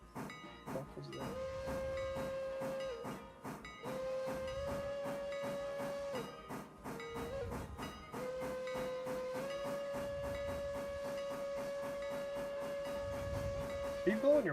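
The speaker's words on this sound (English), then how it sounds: "Are you blowing your whistle? Is that what I hear?" Whistle of a steam locomotive in the Railroader railway game, several long sustained blasts broken by short pauses, with steam hiss and train rumble underneath and no talk.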